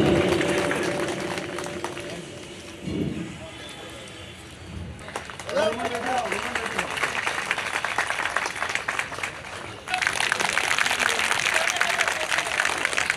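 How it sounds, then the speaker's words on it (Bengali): An audience claps at the oath ceremony of a newly elected truck transport workers' union committee in Bogura, with sustained applause that swells louder toward the end and a voice heard over the quieter start. "সবাই করতালি"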